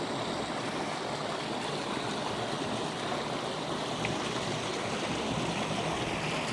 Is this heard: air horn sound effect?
no